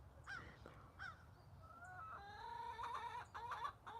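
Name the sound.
roosters crowing in chicken coop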